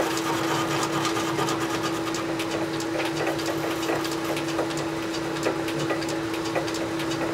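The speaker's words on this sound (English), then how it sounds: "This lathe shakes around a little bit because we have it on a wooden floor" A lathe runs steadily on a flimsy wooden floor, giving a constant machine hum with a strong steady tone and a light rattling, chattering texture throughout, with no talk.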